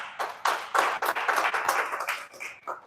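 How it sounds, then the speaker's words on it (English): A live audience bursts into clapping at a wellness session: quick uneven rounds of handclaps from a small group, close and lively, tapering off after a few seconds. "Clap for yourselves, this one."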